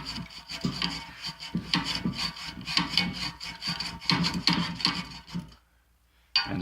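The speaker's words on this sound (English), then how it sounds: "I'm going to take a hacksaw, and I'm just going to lay it there next to" Hacksaw scoring a line in steel angle iron, a close, rhythmic back-and-forth rasp of repeated strokes that stops briefly near the end, then one last scrape.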